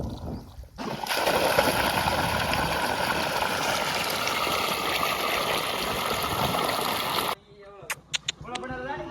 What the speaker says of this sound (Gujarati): જો મિત્રો આ પાણી સલું છે